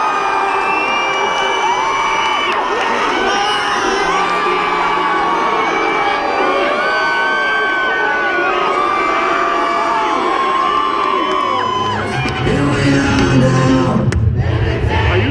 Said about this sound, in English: Let's give Steve Aoki a good clap.